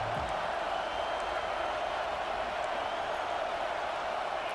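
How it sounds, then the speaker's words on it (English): Stadium crowd noise in an American football video game, a steady broad roar of cheering fans that holds evenly throughout without any speech. "This crowd trying to show them what it's going to be like all day in this house."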